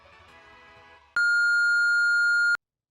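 Speech cuts off as a loud, steady high-pitched beep runs for about a second and a half, then silence.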